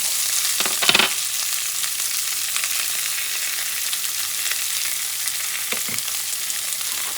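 Onions, cilantro, recao and oregano frying in a pan for Puerto Rican rice with calamari, a loud continuous sizzle punctuated by a few quick stirring scrapes.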